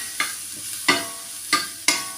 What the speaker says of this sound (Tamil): மசாலாலாம் நல்லா மிக்ஸ் ஆகிற அளவுக்கு நல்லா கிண்டிட்டு